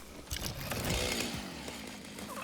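A chainsaw runs in the factory-building video game Satisfactory, its buzzing engine revving and cutting in rising and falling bursts, moderately faint and continuous, with no talking over it.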